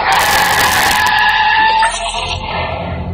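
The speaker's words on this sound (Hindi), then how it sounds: "एक गाड़ी जो 80 की स्पीड में जा रही थी अचानक से डिसबैलेंस होकर एक बड़े हादसे से पहले ही जोर की आवाज से रुक गई" A car travelling at speed loses balance and skids to a sudden stop, its tyres squealing loud and harsh before the screech fades into a lower rumble.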